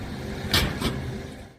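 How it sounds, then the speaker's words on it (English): A road surface buckles with a sharp snap, followed shortly by a second impact as a car crashes while driving over it, two distinct bangs over a steady background rumble. "So the first snap is the road buckling, and the second sound is the car crashing."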